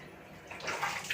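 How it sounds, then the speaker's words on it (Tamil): Water pours over a person's head during a bath at home, a brief soft splashing rush that swells in the last half second. "தலை தண்ணி ஊற்றிட்டு இருக்காங்க அவங்க"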